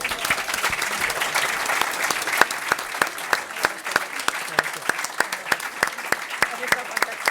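Audience applause at a Club Siglo XXI talk in Spain, a steady round of clapping with distinct, individual claps standing out over the crowd throughout.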